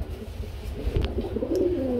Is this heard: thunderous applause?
no